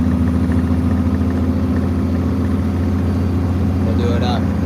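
A truck's diesel engine idles in a loud, steady drone with a strong low rumble, running evenly and alone throughout.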